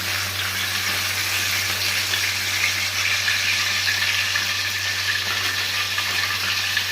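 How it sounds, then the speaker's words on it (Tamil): Cleaned gongura leaves, still wet, hit hot oil and sizzle loudly and steadily, with continuous spluttering crackle and a low steady hum underneath. "இந்த கீரையை எண்ணெயில் தண்ணி பட்டவுடனே வெடிக்கும் சிதறும்"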